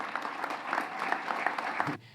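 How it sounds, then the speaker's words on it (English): Audience applause and cheering at a Donald Trump event, a dense, steady wash of clapping that runs loud for about two seconds and then cuts off abruptly. "why is he getting a round of applause?"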